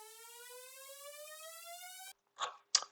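A synth uplifter effect for a music track build-up: a bright, harmonic tone rises steadily in pitch for about two seconds and stops abruptly, followed by two short, sharp noise bursts.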